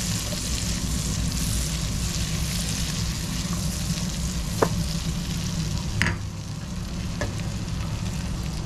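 Ginger sautéing in a pan for green garlic chutney gives a steady, dense sizzle throughout, broken by a few sharp utensil scrapes and clinks, one louder knock near the end.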